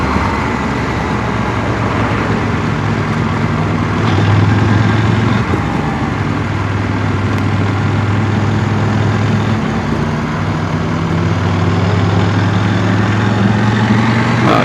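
CFMOTO 1000MT-X motorcycle engine idling close by, a steady low rumble with a constant hum that holds level throughout, with a slight surge around the middle and no talking.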